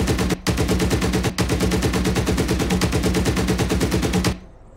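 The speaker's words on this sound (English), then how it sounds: "I'm gonna give them one more burst." A BRDM armored car fires a long, loud, close machine-gun burst in a video game, rapid and even. The burst breaks for two brief instants, then stops sharply and fades into a faint tail.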